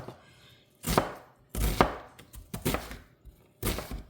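Knife chopping ingredients on a cutting board for white chicken chili, four or five distinct bursts of close, crunchy cutting separated by short pauses.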